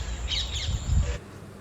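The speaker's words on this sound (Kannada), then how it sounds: "ಅದು ಗಿಳಿ" A parrot squawks outdoors in the evening, two or three harsh calls in quick succession, moderately close, with faint background ambience and no talk.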